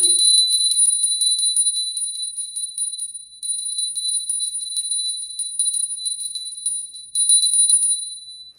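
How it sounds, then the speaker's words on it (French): A small bell rings repeatedly with bright, high metallic tones, jingling in a continuous shimmering rhythm with brief pauses, close and clear. "petit coup de cloche"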